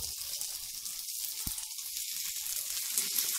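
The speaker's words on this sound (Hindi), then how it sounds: "अब इसमें परांठा डाल देंगे।" A mooli paratha cooks in refined oil on a tawa, giving a steady, bright hiss of sizzling with faint pops, close and continuous, without speech.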